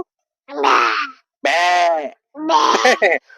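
A voice imitates a goat bleating in three wavering, quavering calls separated by short pauses, close and fairly loud.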